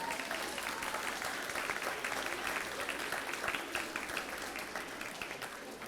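An audience at an elementary school's tenth anniversary event applauds school staff, with steady, dense clapping that fills the room throughout and carries a faint murmur of the crowd.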